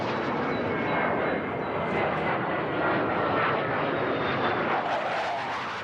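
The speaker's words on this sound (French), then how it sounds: "un avion survole la zone toutes les minutes" A military airplane flies over a rural grazing area, its broad engine roar loud and continuous throughout, swelling slightly near the end, with no voices.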